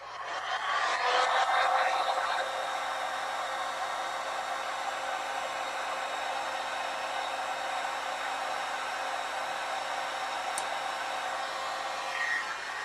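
Electric heat tool blowing steadily on a green glass mosaic piece set in adhesive, a continuous loud fan roar with a slightly stronger start, close and alone.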